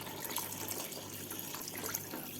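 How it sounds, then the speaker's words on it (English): Hot water poured into a pot for white mutton pulao with basmati rice, a steady close splashing pour that runs continuously without talk. "Adding in the balanced water."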